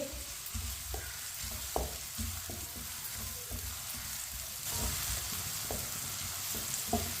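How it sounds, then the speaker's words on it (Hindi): Two finely chopped onions fry in oil in a pan, a steady close sizzle broken by repeated scraping strokes of a spoon stirring, the hiss growing a little louder toward the end. "प्याज को हल्का सा ब्राउन कर लेंगे। 2 मिनट के लिए पकाना है"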